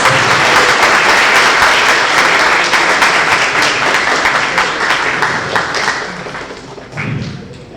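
A panel audience claps in thanks at a round-table on the job market. The applause is dense and loud at first, with some distinct close claps, then tapers off over about eight seconds with a brief murmur near the end.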